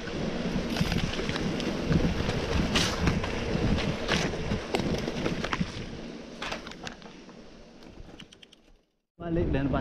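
Strong wind roars into the microphone while cycling outdoors, a constant loud buffeting rumble with short gusts, before it cuts out abruptly near the end.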